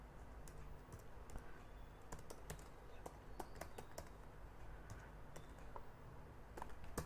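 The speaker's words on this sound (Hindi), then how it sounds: "यहाँ ऑर्डर नंबर आपको टाइप करना है" Keys tapped on a computer keyboard to enter an order number in Tally ERP9 accounting software, sparse light clicks scattered over a steady background hum.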